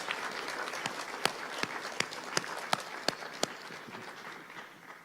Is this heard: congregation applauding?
yes